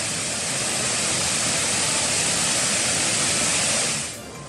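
Oravi waterfall near Bharathi Anna Nagar in the lower hills of Kodaikanal roars as a steady, dense broadband rush of falling water, loud and unbroken, easing off slightly at the end.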